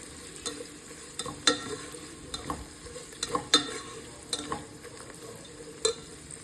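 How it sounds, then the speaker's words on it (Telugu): Ginger-garlic paste fries with coriander and mint in a pan while making country chicken pulao: a low, constant sizzle runs throughout, broken by repeated scraping knocks from stirring with a spoon, with no talking. "దీంట్లో మనం ఫ్రెష్గా దంచి పెట్టుకున్న అల్లం వెల్లుల్లి పేస్ట్ కూడా వేసుకుని బాగా ఫ్రై చేసుకుందాం"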